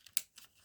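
A paper envelope having its address section torn off, heard as a sharp, quiet rip followed by a couple of softer papery tears in a calm, close setting.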